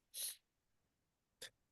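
A sharp, hissy sneeze, then a second, shorter sneeze about a second later, both fairly close.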